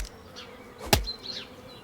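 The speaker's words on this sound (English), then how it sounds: "Why is there bees over there? They're around that tree" Bees buzz around a tree in the video game Chop Chop, a faint, steady insect drone with a single sharp knock partway through and no talking.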